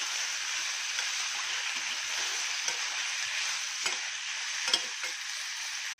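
Kasuri methi, fennel and poppy seeds frying in hot oil, a dense, even sizzle that holds steady for several seconds with a few faint stirring scrapes before it cuts off.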